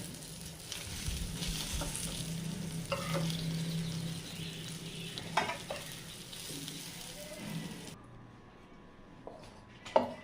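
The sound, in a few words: pointed gourd (potol) frying in a pan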